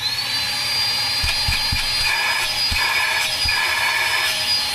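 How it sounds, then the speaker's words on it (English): A shop vac runs at full tilt, powered from an RV power supply, with a loud, steady whining roar and a high tone, broken by a few light knocks, close and continuous. "A shop vac."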